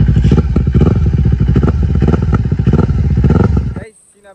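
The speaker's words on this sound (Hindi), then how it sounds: "आप लोगों को थोड़ा बहुत एग्जॉस्ट नोट वगैरह सुना देता हूँ" A Kawasaki Ninja 250R motorcycle revs close by near a railway area. Its loud, rapid, pulsing exhaust note holds for several seconds, then cuts off abruptly into near silence.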